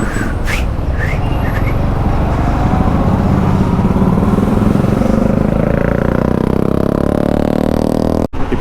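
A motorcycle rides along a highway toward Tada Falls, its steady engine drone mixed with loud wind rush and road noise that hold close and even throughout, with brief higher engine tones early on.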